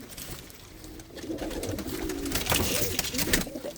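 Domestic racing pigeons coo softly in low, rolling murmurs against an open outdoor background, with some faint birdsong and rustling noise throughout.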